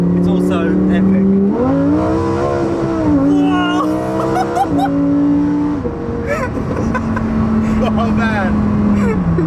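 A Lamborghini Huracan Performante's engine revs hard through rising gear pulls and then burbles down on downshifts, loud and close, with a man's excited exclamation over the engine.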